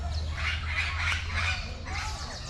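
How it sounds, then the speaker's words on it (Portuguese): A large bird gives a series of raspy squawks, several calls close together and then one more after a short pause, over a low background rumble, with no voices. "Olha o passarinhão."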